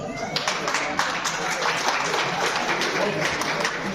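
A group claps during a children's action-song activity, a busy wash of hand claps running steadily throughout, with voices mixed in underneath.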